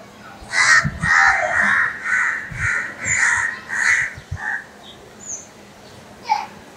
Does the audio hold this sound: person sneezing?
no